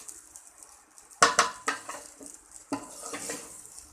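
Drained cooked rice is tipped into a pan for fried rice, giving a few sharp clatters and scrapes of a utensil against the pan, then a softer rustling stir with faint sizzling, close by.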